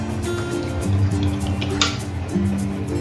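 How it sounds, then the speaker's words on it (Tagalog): Water from a blender jar pours into a pot of homemade chicken curry with potatoes, a short, fairly close trickle and splash with faint drips. "Yung tubig na galing sa, sa blender natin kanina. Lagyan ko lang ng tubig."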